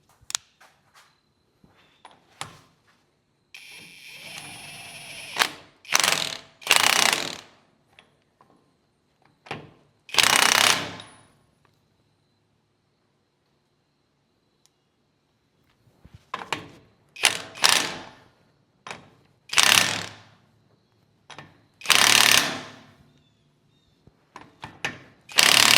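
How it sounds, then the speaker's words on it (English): A pneumatic impact gun tightens the pinion nut on a Jeep axle during a pinion seal replacement. It fires in short, loud, rattling bursts separated by quiet pauses, repeated several times. "So we're going to hit it with the gun, check it, hit it with the gun, check it"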